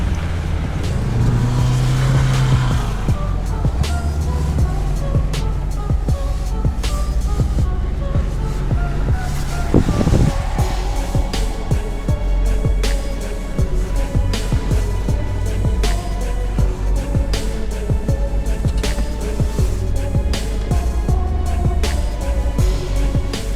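Off-road jeeps, among them a Land Rover and a Suzuki, race one another toward a transfer point, their engines droning loudly and steadily throughout, with no break and no talk.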